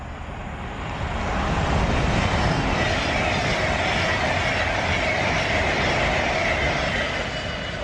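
A train passing a station platform in the West Midlands, a loud continuous rumble and rolling wheel noise that builds quickly and holds steady close by.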